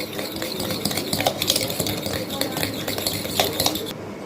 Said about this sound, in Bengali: এখন আমি খুব ভালোভাবে চিনি আর ডিমটা মিশিয়ে নিব